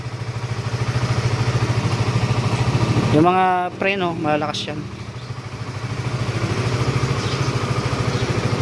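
A 2012 Honda CBR motorcycle idles steadily with a close, even low putter; someone speaks briefly over the engine in the middle, and the idle continues unchanged after he finishes.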